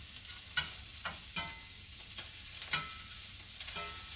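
Octopus and vegetables sauté and brown in a hot pan, a steady close sizzle broken by a few soft clicks of stirring, with no voices.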